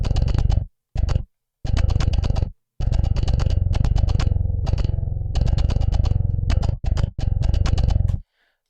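Grove Bass, a MIDI bass instrument from Submission Audio, plays a loud, punchy line of short and sustained notes with brief gaps, ending abruptly with a short tail.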